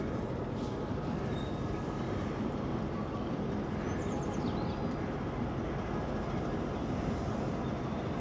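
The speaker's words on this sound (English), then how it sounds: "Let's watch this train go through." A graffiti-covered train rolls steadily through a quarry, a continuous broad rumble and clatter of carriages passing at close range for the whole stretch, with no talk.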